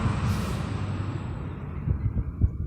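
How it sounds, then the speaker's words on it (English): A dump truck rumbles past outdoors, a steady low-pitched drone with a few heavier thumps toward the end, with no talking over it. "Hold on, we got a dumpster truck."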